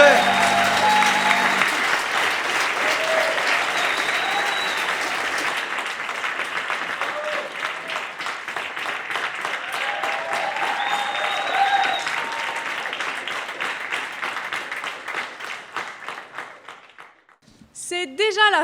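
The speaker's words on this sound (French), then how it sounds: "On peut s'applaudir." A theatre audience at the close of a first-edition show evening applauds loudly and continuously, dense clapping with some cheering sustained for most of the stretch before fading near the end.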